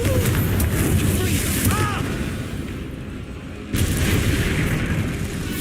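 A Confringo blasting spell in the Hogwarts Legacy video game gives loud, rumbling explosive booms over a dense game soundtrack, with a sharp fresh burst late in the clip.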